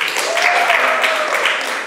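An audience at a Miami startup demo day applauds and cheers for presenting startups, a steady, dense wash of clapping lasting a couple of seconds without pause.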